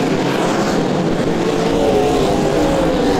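Sprint cars roar around a dirt track during a Speedweek A main in South Australia, a loud, dense engine blare close by with a pitch shift as a car slides past, no voices audible.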